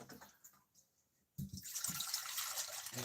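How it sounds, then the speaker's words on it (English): Water pours steadily into a pet's water bowl to top it up, a continuous close splashing rush that starts suddenly after a quiet moment and runs to the end. "I'll just top up that water before it runs too low as well."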